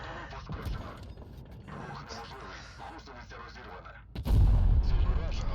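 Background rumble and gunfire through most of the stretch, then a heavy IS-3 tank cannon boom in a video game near the end that rolls into a loud, sustained roar.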